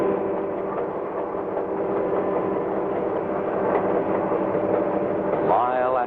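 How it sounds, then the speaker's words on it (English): A westbound freight train out of Chicago runs along the tracks with a continuous heavy rumble and rolling drone, steady and close throughout, while a voice talks over it and a rising whine enters near the end. "another freight train is on its way west from Chicago"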